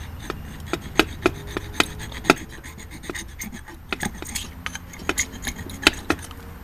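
A brand-new S-Wing camp axe scrapes along a Gerber fire starter rod with a magnesium bar, giving a series of short, sharp rasping strokes, fairly close and loud over a quiet background.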